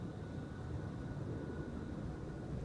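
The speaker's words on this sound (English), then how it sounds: "This is KLM flight 735, the first departure" A KLM airliner on flight 735 departs runway 36L, the Polderbaan, at Amsterdam Schiphol, its jet engines a steady broadband roar heard from a distance, constant throughout with no voices.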